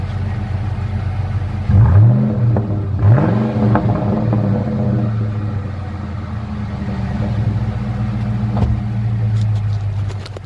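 A 2004 Ford Mustang Mach 1 engine with stock Mach 1 exhaust mufflers idles with a steady low rumble, then revs sharply twice close to the tailpipe before settling back to a loud, even idle.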